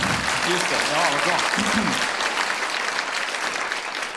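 Audience applause fills the hall at a televised charity gala for childhood cancer research, steady broadband clapping throughout with a voice speaking over it at the start.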